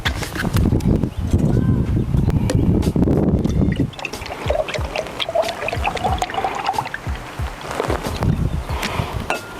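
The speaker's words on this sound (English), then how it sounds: "We're going to use a cup and a half of milk" Milk is poured from a measuring cup for French toast, a gurgling, bubbling stream that runs loud for several seconds, then gives way to clinks and small kitchen handling sounds up close.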